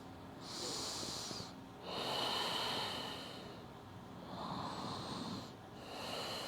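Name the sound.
yoga breathing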